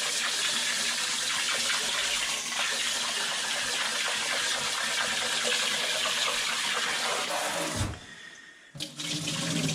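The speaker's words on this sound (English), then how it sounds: "Just try to rub that rice, get all the starch out." Rice being rubbed and washed by hand in water in a kitchen sink, a steady close sloshing and running-water wash that breaks off briefly near the end before resuming.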